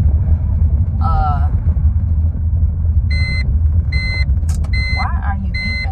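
Car warning chime sounding inside a moving car, a series of short, regular electronic beeps over a steady low engine and road rumble, with a voice speaking briefly in between.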